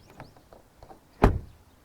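A GAC GN6 minivan's swing-out side door shuts with one loud, solid thud, preceded by faint handling noises and followed by a brief fading resonance.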